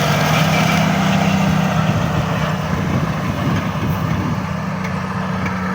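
A tractor runs with an NIT-6 mulcher attached, working a field: a loud, steady engine drone with continuous mechanical rumble and churning, close and unbroken, with no talking.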